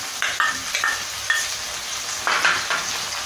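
Chopped capsicum, tomato and other vegetables sizzle in a pan for Mumbai-style pav bhaji, a steady close frying hiss with a few stirring scrapes and clinks on top, and no talking.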